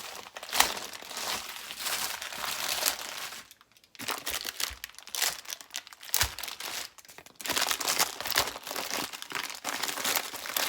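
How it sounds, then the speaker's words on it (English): Parchment paper is folded and crinkled for holiday Christmas crack candy, giving loud, close crackling and rustling in repeated bursts with a few short pauses. "we're just going to take our parchment paper, and to start with, you're just going to fold it over."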